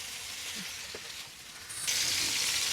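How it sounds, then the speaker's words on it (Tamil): Shallow frying for a DAN JR CM-style biriyani, a soft steady sizzle that jumps to a louder, brighter hiss partway through, with no talking. "அதனால் சும்மா ஒரு ஷாலோவாக ஃப்ரை பண்ணிக்கலாம்."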